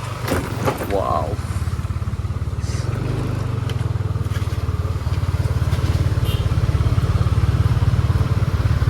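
Motorbikes and cars idle and creep through heavy traffic on a narrow street in Kuta, Bali, a close, steady engine rumble throughout, with someone speaking briefly near the start.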